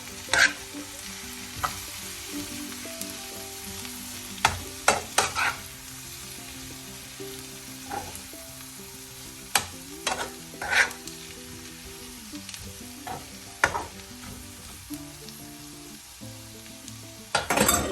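Green bitter gourd stir-fry with turmeric sizzles steadily in a pan while a spoon stirs it, with sharp scrapes and clinks at irregular intervals over a constant frying hiss.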